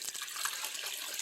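A bucket of water poured out to fill in a spot during shower system testing, a close steady splashing gush of water running through the whole moment.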